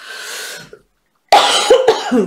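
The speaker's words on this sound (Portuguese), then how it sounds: "tenho sido acometida de uma tosse alérgica" Two bursts of harsh coughing, close and loud, separated by a brief silence; the second burst breaks into several quick hacking coughs.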